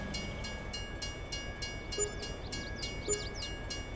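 Train in the video game Farming Simulator 22 running steadily with a continuous rumble and regular rhythmic clatter, plus two brief tonal chirps near the end; no talking.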